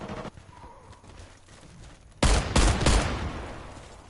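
Sniper rifle fire in the first-person shooter Warface: a quiet opening, then a sudden loud crack with a rumbling tail, followed by a second sharp report and a fading echo.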